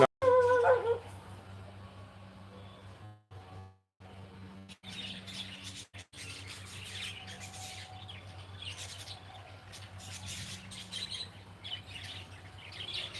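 A sharp dog bark at the start, then a steady background hum with faint chirps and scattered clicks.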